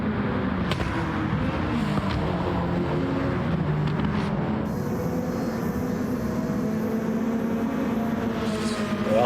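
Touring car engines in a racing video game, a Scirocco and an Audi TT among the pack, drone steadily and loudly through the whole stretch, with layered engine tones blending into a continuous roar.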